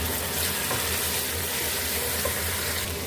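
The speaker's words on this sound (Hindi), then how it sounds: "यहाँ पर हमने 2 से 3 मीडियम साइज़ के प्याज और टमाटर ले लिए, वो इसमें हम ऐड कर लेंगे और इसको भी हम फ्राई कर लेंगे" Chopped onions and tomatoes fry with cumin in a pan, giving a dense, continuous sizzle that stays loud and even throughout, with no talking.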